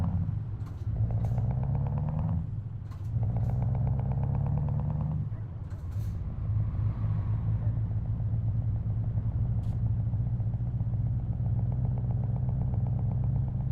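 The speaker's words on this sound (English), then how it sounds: "You may hear that engine rumble. That's because I've got the open pipe" Deep, steady engine rumble from a modded truck with an open-pipe exhaust in Euro Truck Simulator 2, droning continuously and loudly close up with brief dips in level, and no talking over it.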